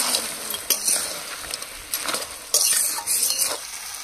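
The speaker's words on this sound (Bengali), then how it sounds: "আবার 2-3 মিনিট পরে আরেকটু নাড়িয়ে দিলাম।" A spoon stirs Malabar spinach chorchori in a wok, giving a few scraping strokes and light metal clinks over a faint sizzle, close and fairly quiet.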